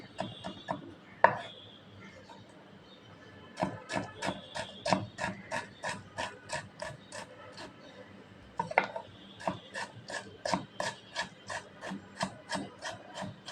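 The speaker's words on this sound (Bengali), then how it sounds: "আমি আলুটাকে সুন্দর করে কুচিয়ে নিচ্ছি।" Potato being finely chopped with a knife on a board, a fast run of sharp, evenly spaced close-up chops with a brief pause midway before the steady rhythm resumes.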